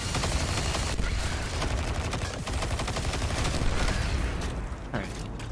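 Turrets in the video game Destiny 2 keep up rapid, continuous gunfire through the whole clip, forming a dense crackling barrage at steady loudness.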